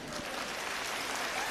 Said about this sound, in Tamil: அவங்க கைத்தட்டுங்க